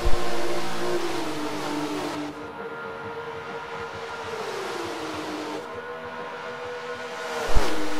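Race cars at Homestead in an MEA Prototype Challenge round, engines wailing and rising in pitch together as the pack accelerates on track, loud and close, with a sharp bang near the end.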